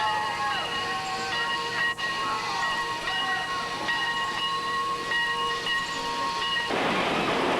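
A train rumbles steadily past close by, with a whistle or horn tone sounding over the continuous rolling noise and a brief rush of louder wheel noise at the end.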